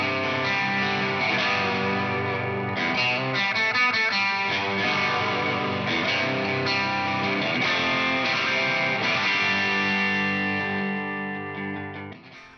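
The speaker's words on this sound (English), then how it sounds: "when I think of the word chime, I think of what most guitar players think of, which is those really nice extended upper harmonics" Chiming electric guitar rich in extended upper harmonics, played as a continuous ringing passage through effects with a bright, shimmering distorted edge, loud and alone before fading near the end.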